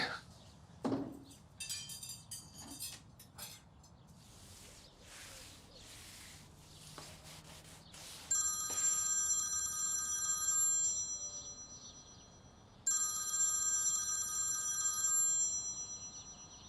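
A mobile phone left behind at home rings with a bright electronic ringtone in two loud bursts, the second starting after a pause, preceded by quieter household sounds.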